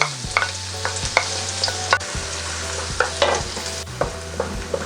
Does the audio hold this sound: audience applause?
no